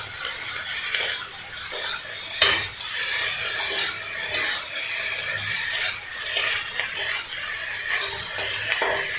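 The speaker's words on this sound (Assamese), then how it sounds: "এই গোটেই চিকেনখিনি মই ইয়াতে ধুনীয়াকৈ দি দিম। দি পেলাই অকণমান লৰাই দিম।" Chicken pieces dropped into a pan and stirred, with scraping and clattering of utensil against metal over a soft sizzle, including one sharp knock partway through, close and without speech.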